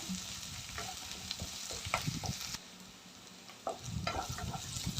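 Ginger garlic paste with curry leaves fries quietly in a pan, a soft sizzle broken by intermittent spoon scrapes and stirring knocks, with a brief lull midway.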